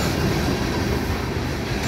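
A train rolls heavily along railroad tracks close by, passing over coins left on the rails, with a steady loud rumble and roar of wheels throughout.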